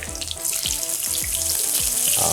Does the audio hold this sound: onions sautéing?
yes